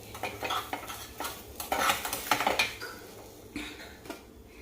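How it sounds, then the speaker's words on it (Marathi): Egg kebab flipped in a frying pan: a run of scraping utensil clatter and metallic pan knocks over a soft sizzle, fairly close, with no voices. "चला मैत्रिणीनं आपला अंडा कबाब आपण जरा पलटी मारून बघू"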